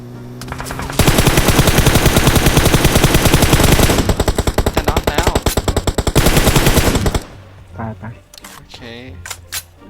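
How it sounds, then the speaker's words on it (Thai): Rapid automatic gunfire from the PUBG Mobile game on the Livik map rattles in long bursts, then thins to scattered shots as a voice speaks over the end. "บนเขายิงผมอะไม่ใช่บนบ้าน"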